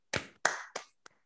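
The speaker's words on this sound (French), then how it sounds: "je vous demande d'ouvrir vos micros pour un bel applaudissement" A few separate claps come through an online meeting's open microphones, four short bursts with a faint, small-group quality.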